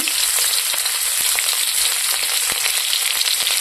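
Chopped onion and a bay leaf sizzle in hot oil in a kadai wok, a steady close crackling hiss with small spattering pops and no voices.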